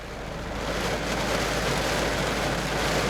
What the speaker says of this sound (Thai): ฝนเลยครับ ตอนนี้